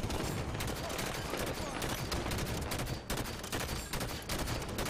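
A dense, continuous barrage of gunfire in the Halo 5 Warzone game, with overlapping shots forming a steady roar throughout and no clear pauses or voices.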